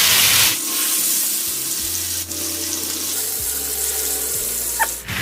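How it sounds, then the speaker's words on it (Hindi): Chicken roasting in a cup of hot mustard oil, a steady loud hissing sizzle that holds throughout with a few brief clatters and bumps. "1 कप सरसों का ऑयल गरम हो चुका है, फ्राई करेंगे चिकन रोस्ट।"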